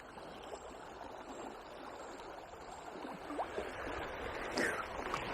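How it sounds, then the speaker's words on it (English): Fast-flowing water on the River Wye, a steady, moderately faint broadband rush with a few small splashes near the end and no talking. "Proper belting through here, the water."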